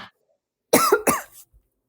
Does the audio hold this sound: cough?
yes